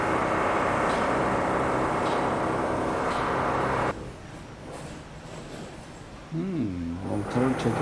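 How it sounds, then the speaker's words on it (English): Construction work for a rail subline renovation: a loud, dense broadband machinery roar for about four seconds, then a quieter rumble with scattered clatter, joined near the end by a voice-like harmonic sound. "this is the sound of the construction work for the renovation"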